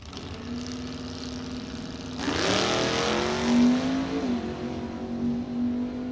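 A 1968 Plymouth Cuda and a white Chevy Nova drag racing at a bracket racing event, engines idling steadily before a sudden loud launch, revving through gear changes and droning on down the strip.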